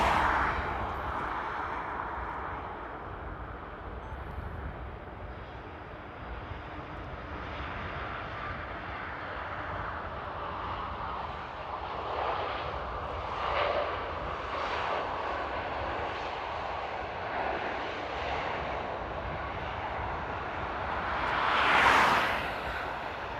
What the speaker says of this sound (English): that A350 I said earlier is actually on approach as well